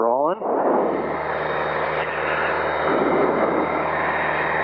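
Piper Cherokee single-engine aircraft on its takeoff roll at Payson airport, a loud close engine drone rising to full power after a brief pitch sweep, steady and continuous, with voices underneath.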